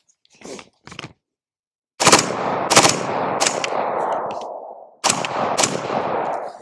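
Loud gunfire from an AR-15 fitted with a mini Kabuto FRT trigger firing in semi-automatic mode, with a few sharp close shots followed by longer ringing bursts that decay, separated by short gaps.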